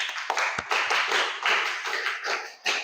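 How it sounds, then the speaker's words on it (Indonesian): Students in a junior high school classroom clapping together, a dense burst of many hands with a few sharp individual claps, fairly close and continuous for nearly three seconds. "Ya, tepuk tangan lagi."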